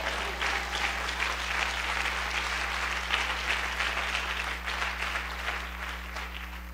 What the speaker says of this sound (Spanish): ¿Cuántos aplauden a Yeshua?